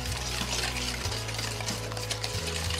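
Eggs and sugar are creamed together in a bowl for a panettone bread pudding, a continuous scraping, whisking stir with a steady hum beneath, close and even throughout.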